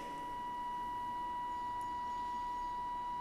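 Steady pure sine wave tone from a signal generator in a physics lab, a constant single-pitch whine held without change for about three seconds over faint background hiss.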